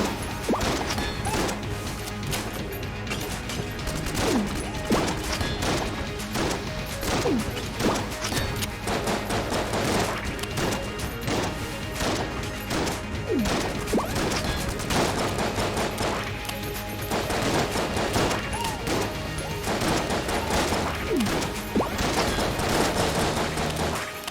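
Dense, continuous shotgun fire from the video game Enter the Gungeon, rapid overlapping blasts mixed with crashes and impacts under busy game sound, with no pauses throughout.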